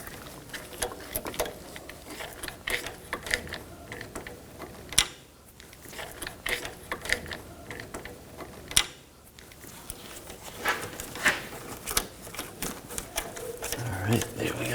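Wheel hub bolts on a 2000-2006 BMW X5 rear hub being started and run in, a busy stream of clicking, ratcheting metallic ticks with a few sharper knocks, close and steady throughout the stretch.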